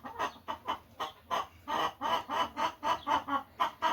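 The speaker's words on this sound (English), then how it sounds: "there's one of our Rhode Island red hens, checking eggs" A Rhode Island Red hen in a farm hen house clucks close by in a quick, rhythmic series of short bursts, about a dozen clucks in steady succession with no voices.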